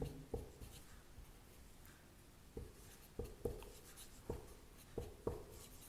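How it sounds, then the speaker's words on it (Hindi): Pen writing numbers on paper for a Lakshmi puja, a series of soft scratchy strokes and taps in short bursts, close and quiet against faint room noise. "अब आपको ये बनाने के बाद श्री लिखना है"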